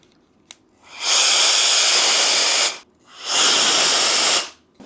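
A GooLoo electric air duster fitted with its largest nozzle gives two sustained, loud blasts of hissing air, each about one and a half seconds long, with a brief pause between them and a small click before the first.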